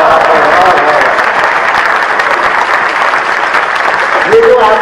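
An audience applauds steadily throughout at a Hindi comedy poetry show, a dense, loud clatter of many hands that continues without a break.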